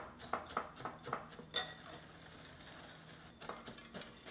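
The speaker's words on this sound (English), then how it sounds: "with a whisk, let's just whisk these together" A metal whisk mixes cinnamon and brown sugar in a bowl, quiet clinking and scraping taps in an irregular rhythm over a low background hum.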